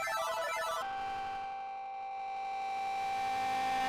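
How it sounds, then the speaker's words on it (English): A cell phone ringtone plays as a steady electronic melody of layered tones, loud and continuous throughout, sounding somewhat chaotic. "Sounds like someone's cell phone is on."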